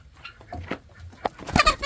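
Baby chicks and hens cluck and cheep inside a pen shared with ducks and guinea fowl, with scattered short calls building to a louder flurry of clucks near the end, close to the microphone, with rustling handling noise.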